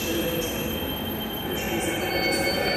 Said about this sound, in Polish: Piękny pociąg.